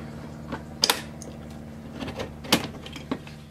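Plastic clips snap and click as tools pry the door trim off a VW Beetle, short sharp cracks and rattles close up, scattered irregularly over a quiet background.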